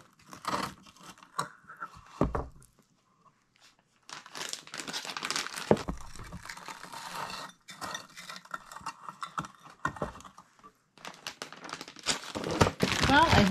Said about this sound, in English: I go ahead and I put it in the Ziploc bags and then put them back in the freezer